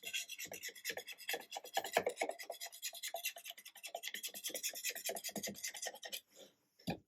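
A wooden archtop guitar top is sanded by hand with quick, rhythmic back-and-forth rasping strokes. The strokes are close but fairly quiet, and they stop abruptly near the end.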